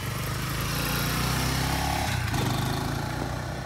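A motorcycle engine runs with a steady, throaty rumble as a woman rides, loud and close with a slight shift in tone midway.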